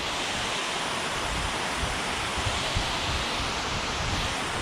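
Steady, dense rush of water pouring over a ledge on French Creek, a broad continuous roar with no pauses or voices.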